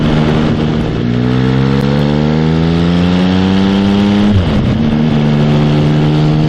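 A motorcycle accelerates hard away from a road junction, its loud, close engine note climbing steadily through the revs, then dipping briefly at a gear change before pulling on toward 60 mph.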